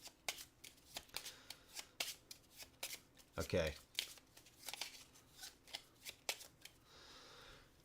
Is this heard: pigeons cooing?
no